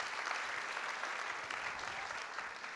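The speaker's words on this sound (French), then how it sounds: "On peut les applaudir." Sustained audience applause at the closing address of a public event, a dense steady wash of many hands clapping, fairly faint and distant, with no voices on top.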